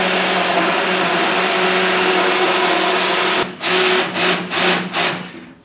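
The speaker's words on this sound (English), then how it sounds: "I'm just using a stick blender to blend." A stick blender purees cooked soft vegetables and bacon into soup with a steady, loud motor whir, then stutters into several pulsing surges as it is moved through the pot.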